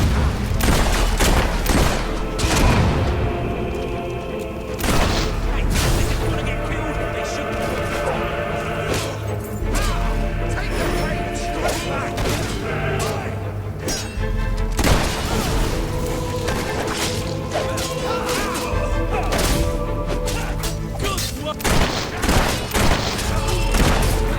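Fable III gunfire: repeated sharp shots and booming impacts scattered across a dense, loud game battle soundscape, with steady low rumble underneath and a voice speaking at times.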